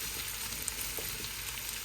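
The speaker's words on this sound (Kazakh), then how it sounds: "Жуамыздың сарымсағымызды қуырып алайық." Onion and garlic fry in a pan with a steady, dense sizzle that holds close and even throughout, no voices over it.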